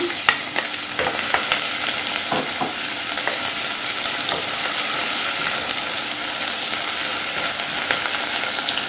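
Onion frying in a thin layer of oil in a pot for braising serm, a steady loud sizzle with occasional stirring clicks and scrapes throughout, no voices.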